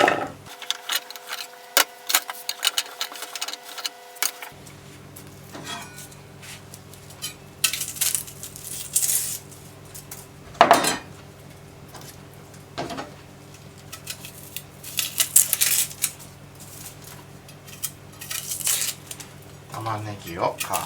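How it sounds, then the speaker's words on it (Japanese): Onions are cut in a kitchen while making homemade European-style curry: scattered knife taps and clacks hit the board at an uneven pace, with a person talking between the cuts. "あと玉ねぎ切っておきましょう。"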